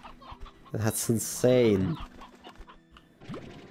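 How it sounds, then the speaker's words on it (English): Chickens cluck in the Slime Rancher 2 video game, a burst of rising, squawking clucks over about a second, while a person speaks briefly nearby. "that's a lot of chickens"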